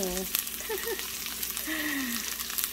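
Chopped onions sizzle loudly in a hot pan during home morning cooking, a constant frying crackle with faint voices and clatter in the background.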